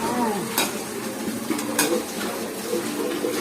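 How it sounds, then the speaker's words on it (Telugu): Red gongura leaves fry in a pan until soft for pickle, with a steady close sizzle and a couple of sharp utensil scrapes as the leaves are stirred. "ఇలా అయితే వేయించుకోవాలి, మెత్తగా అయ్యేటట్టు."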